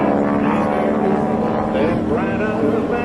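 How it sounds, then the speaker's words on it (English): A propeller aircraft rolls overhead at an airshow, a loud droning engine roar with a shifting pitch as it manoeuvres, while a commentator talks over it. "roll the aircraft in a victory roll"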